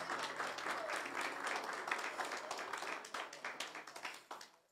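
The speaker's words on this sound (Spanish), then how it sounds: "Démosle un fuerte aplauso al Señor." A church congregation claps loudly for the Lord, a dense sustained applause that thins out toward the end.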